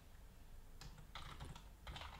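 Rapid keystrokes on a QWERTY computer keyboard, typed in short bursts with brief pauses, close and fairly soft, with no talking.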